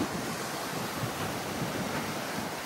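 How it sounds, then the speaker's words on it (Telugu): Sea waves roll in beside the shore near Velankanni and Nagapattinam, a continuous broad wash of surf mixed with wind buffeting the microphone, steady and fairly loud with no speech. "మీరు చూసుకోవచ్చు పక్కనే అద్భుతమైన అలలు వస్తున్నాయి అన్నీ."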